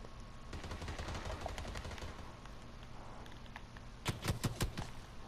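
Gunfire in the video game PUBG rattles in fast automatic bursts, dense and continuous at first, then a brief run of louder, sharper individual shots near the end, heard at moderate distance.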